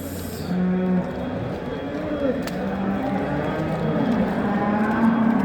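Cattle moo repeatedly at a busy livestock market in Çorum, with several drawn-out, low calls rising over a constant crowd murmur and people talking nearby.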